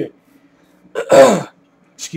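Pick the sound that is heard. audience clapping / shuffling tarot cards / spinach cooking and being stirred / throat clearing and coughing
throat clearing and coughing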